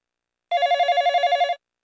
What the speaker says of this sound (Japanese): すると、電話が鳴った。